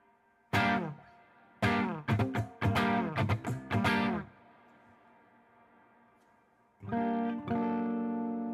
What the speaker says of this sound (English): So that's the reverb.